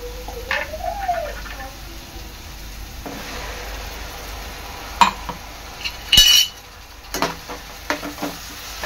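Ground masala paste scraped and stirred into softened onions in hot oil for an octopus masala, with soft sizzling, a few spoon clinks against the pan and faint intermittent stirring close by.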